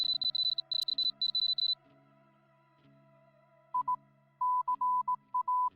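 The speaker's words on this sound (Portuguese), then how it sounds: "Era código Morse." Slowed Morse code beeps, pure electronic tones in a video game about mining. A high tone beeps in quick clustered bursts, then a lower tone returns in longer dot-and-dash groups over a steady background hum.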